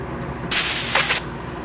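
Sandpaper of 180 grit pressed against a wooden coffee tamper spinning on a lathe gives a single loud, hissing scratch lasting under a second over a low motor hum.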